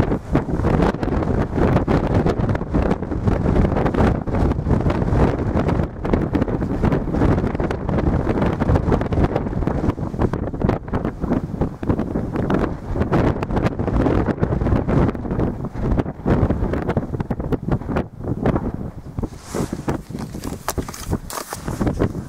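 Strong wind buffeting a portable radio setup and its bouncing antenna on a hilltop in the Mendip Hills, a loud, continuous roaring rumble with gusty surges that dominates throughout and fades slightly near the end.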